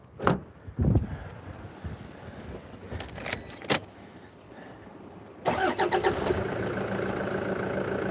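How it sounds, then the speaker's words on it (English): Keys rattle and a few clunks, then a car engine cranks and catches, settling into a steady idle for the final few seconds. "Let me just check the car's going to start"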